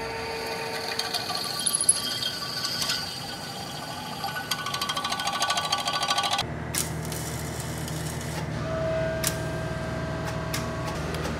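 Tack welding a new frame piece into a car during rust repair gives dense crackling and sizzling bursts with scattered sharp ticks, continuing steadily before the sound shifts to a different buzzing weld texture partway through.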